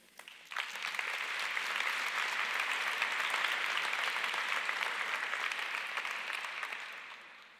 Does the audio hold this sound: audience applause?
yes